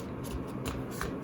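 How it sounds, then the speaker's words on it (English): A sheet of A4 paper or drawing-block paper is folded by hand, giving quick crisp rustles and creases close up, with no talking. "take the A4 size paper or drawing block, just fold it like this"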